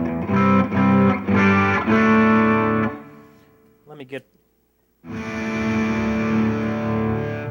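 A Fender Stratocaster played through a Jekyll and Hyde distortion pedal gives harsh, rocky, Marshall-stack-like crunch, with strummed chords ringing, a brief pause for a few spoken words, then another loud sustained distorted chord.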